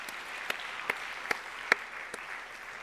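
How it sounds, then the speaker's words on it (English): A school awards-ceremony audience gives a round of applause for sixth and seventh graders, a soft, distant wash of clapping with a few sharper individual claps popping out above it. "Can we give them all a round of applause?"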